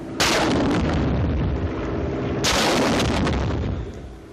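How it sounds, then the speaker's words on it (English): WW2 rockets are fired in two separate launches, each a loud, close, roaring blast that rumbles on and then trails off, with no speech. "And these rockets are fired the same, with one exception."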